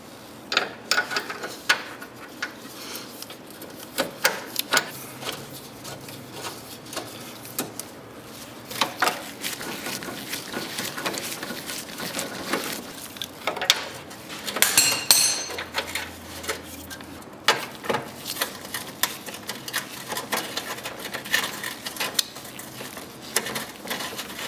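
Metal clinks, taps and ratcheting clicks sound close by as new motor mount bolts go into a 2003-2013 Mazda3, irregular bursts of tool-on-metal noise scattered through the whole stretch with no talking.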